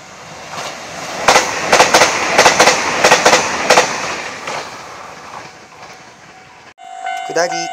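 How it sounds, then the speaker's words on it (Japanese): A JR 2700 series Nanpu limited express passes through a small Japanese station, a loud run of rapid clickety-clack wheel beats over rail joints that fades away, ending with a brief high electronic chime. "上り2700系南風号が通過です。"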